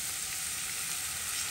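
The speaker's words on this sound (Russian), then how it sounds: "Лук нужно пожарить прям вот до мягкости, до мягкости" Onions sizzle and crackle steadily in hot oil in a pan, a close, continuous frying hiss with no talking, cooked until soft for a mushroom julienne.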